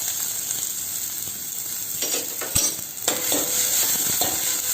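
Finely chopped small onion hitting hot oil in a pan for a rasam: a continuous bright close sizzle with spatula stirs and a couple of sharp clicks midway. No voices are heard.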